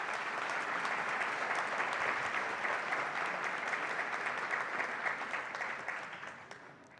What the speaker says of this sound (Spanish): Un fuerte aplauso y bienvenida.